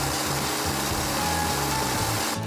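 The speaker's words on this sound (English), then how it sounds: "Blend until very smooth." A food processor blending caramel ingredients until smooth, a loud, close, continuous motor whir with a grinding, rasping texture that cuts off abruptly at the end.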